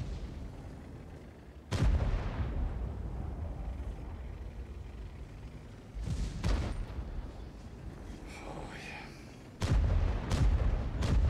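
Tank cannons fire in a tank video game during a Manoeuvres event match, three heavy booming shots spaced several seconds apart, each with a sharp blast and rumbling tail over steady engine drone.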